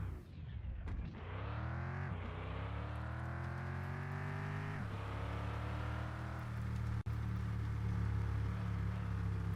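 A pickup in the driving game Mon Bazou drones steadily as it pulls away, its engine tone rising and falling through gear changes, faint and without talk.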